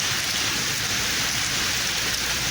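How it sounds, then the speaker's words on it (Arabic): Steady, dense rain falls over the city of Oujda, Morocco, a continuous loud hiss of drops on surfaces with no voices. "أمطار الخير بمدينة وجدة"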